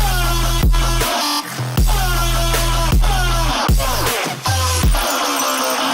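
Heavy dubstep synth from a track taken from a free sample pack: loud, distorted bass stabs with pitch-dropping wobbles, hitting in a choppy rhythm of repeated bursts with brief gaps, no voices.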